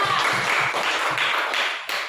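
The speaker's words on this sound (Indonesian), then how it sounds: "tepuk tangan dulu untuk kelompok 2" A short burst of clapping from a classroom group, steady and fairly close, with slightly uneven rhythm and a brief dip near the end.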